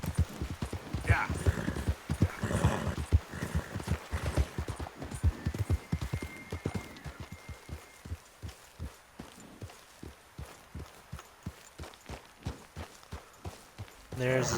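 Horse hooves clip-clop at a steady walking pace in the Western open-world game Red Dead Redemption 2, close and fairly quiet, slowing into sparse, regular steps with occasional talk early on.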